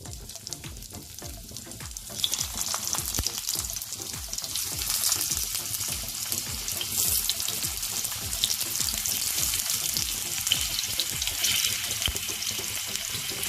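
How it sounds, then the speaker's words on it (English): Stuffed bitter gourds fry in hot oil in a kadai, a bright crackling sizzle that swells louder after the first couple of seconds and holds steady, with a faint rhythmic ticking underneath. "Once the oil is hot, I am going to add the bitter gourds into this."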